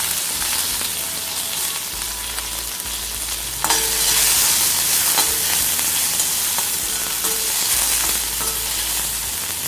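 Shallots and curry leaves sauté in hot oil in a pan with a steady, close, hissing sizzle, which swells louder partway through, and occasional stirring scrapes come through.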